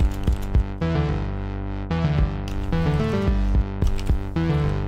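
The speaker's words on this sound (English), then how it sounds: "the kick drum starts off with four hits," Video game soundtrack whose kick drum opens with four hits, then continues in a steady, loud electronic groove with dense layered synth tones and no voices.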